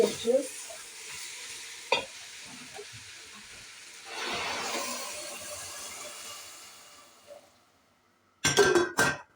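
Vegetables for pumpkin soup sizzle and hiss steadily as they roast in a hot pot, with occasional stirring scrapes and clinks, then a sharp metallic clatter near the end.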